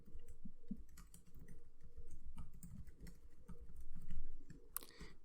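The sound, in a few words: typing sentences on a computer keyboard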